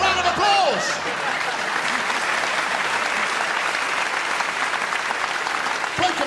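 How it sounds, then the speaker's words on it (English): A studio audience at a comedy chat show breaks into a full, sustained round of applause that fills the whole stretch, dense and even, with a brief rising vocal whoop at the start. "Give that woman a round of applause!"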